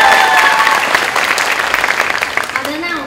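An audience at a Chinese-language drama awards ceremony claps loudly and steadily, a dense applause texture that slowly fades, with a voice heard briefly over it.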